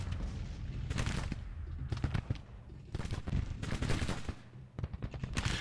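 Musket volleys in a Grand Tactician: The Civil War battle near Springfield, with dense, continuous rattling fusillades of overlapping shots and no clear pause.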